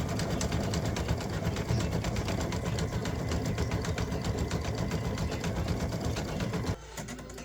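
An embroidery machine stitches the word love onto a mug rug panel, running in a steady, fast mechanical rhythm close up before stopping abruptly near the end.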